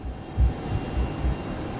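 Jet airliner engines at takeoff rotation on a flight from Hong Kong to Macau, a steady broadband roar with low pulsing swells, heard alone.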